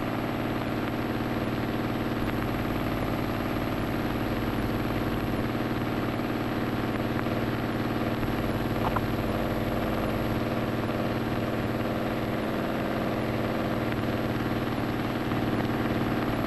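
An Il-2 attack aircraft engine runs at reduced throttle, around 1600–1700 rpm, a continuous low droning roar that stays even and steady for the whole stretch, with no voices.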